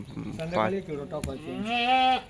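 Goats bleat loudly and close by, with several wavering, drawn-out calls overlapping one another.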